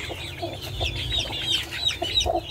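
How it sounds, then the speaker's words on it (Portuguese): A small baby chick peeps repeatedly in a rural home setting, with rapid high chirps coming in quick bursts over a low background rumble, close and fairly soft with no talking. "Olha o pintinho bonitinho."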